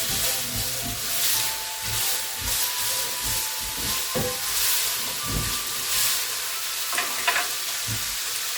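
Cauliflower and mixed vegetables fry in a hot pan, a steady close sizzle and hiss with occasional soft stirring knocks, no voices.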